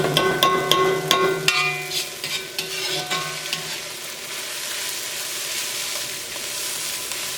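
Chilli sauce fries in hot oil for Indo-Chinese noodles, opening with rapid metallic clanks of stirring against the pan, then settling into a loud, steady sizzle close by.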